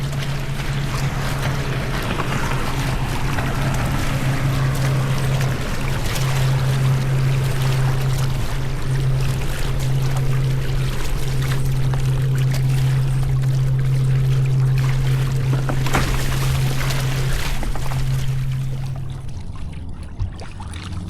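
A boat engine hums steadily while water rushes and splashes against the hull from choppy wakes of fast passing boats, fading slightly at the end.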